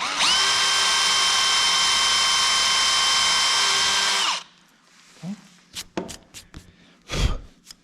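A power drill bit bores into a block with a loud, steady high-pitched whine for about four seconds, then winds down and stops, followed by scattered knocks and handling sounds.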